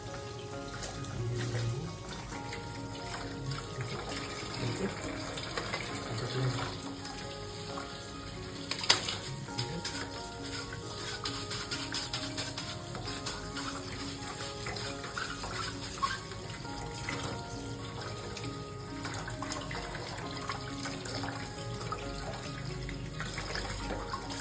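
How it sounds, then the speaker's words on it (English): Running tap water splashes steadily while parts of a Kuvings B1700 cold press juicer are scrubbed with a brush at a sink, a continuous close rushing wash lasting throughout with no talk. "can easily put water and wash."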